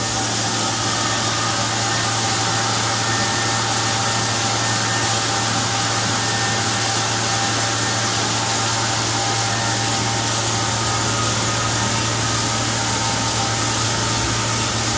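A cryogenic liquid nitrogen deburring machine runs with a loud, steady mechanical roar and low hum, holding constant and close throughout.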